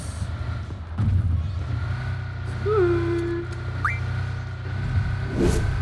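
A Ferrari-style car engine hums steadily in PUBG Mobile, with a short rising whine midway and faint game noises around it, the motor holding a continuous drone throughout.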